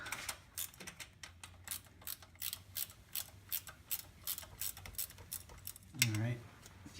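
A ratchet wrench cranks a loosened bolt off a 13B peripheral port rotary engine, clicking close in a steady series of short bursts, with a grunt of effort near the end.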